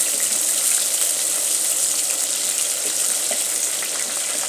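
Onion frying in a pan for spaghetti sauce gives off a loud, even, hissing sizzle that runs continuously and close-up with no voices.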